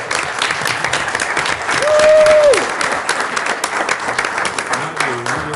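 An audience at a school district board of education meeting claps to welcome high school soccer state champions, a steady, loud round of applause with a brief tonal squeal partway through and faint voices near the end.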